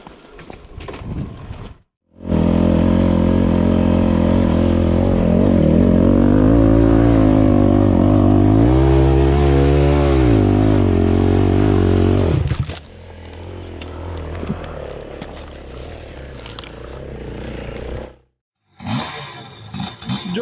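A motorcycle climbs a hill on a forest trail toward Lake İznik, its engine a loud, steady drone for about ten seconds with revs rising and falling midway, then dropping to a quieter idle with faint rustling.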